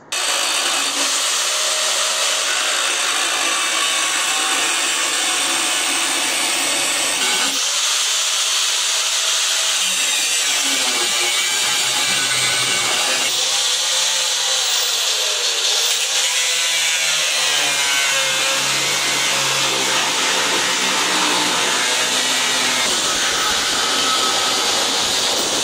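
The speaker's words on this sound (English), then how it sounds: "So let's get that grinder, get your safety glasses," An angle grinder cuts through the steel frame of a Ford F100, a loud, continuous high-pitched whine with shifting pitch as the disc bites, running nearly unbroken for about twenty-five seconds with no talk.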